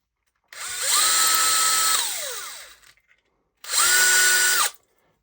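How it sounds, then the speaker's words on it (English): Power drill fitted with an extra-long 3 mm bit, opening up holes in front suspension parts for a Skeeride build: two loud bursts of whining motor, the first spinning down briefly, the second cutting off cleanly after a short pause. "So I'm going to take my drill."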